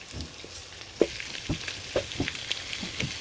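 Pieces of chicken crackle and sizzle in hot cooking oil, a soft steady hiss broken by sharp irregular pops and spatters, close by with no talking.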